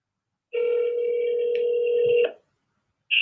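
A telephone call goes out: a steady dial tone sounds with a brief dialing blip, cuts off, and then a ring tone begins, close and clear.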